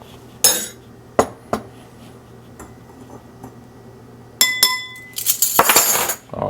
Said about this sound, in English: let's give it a little whisk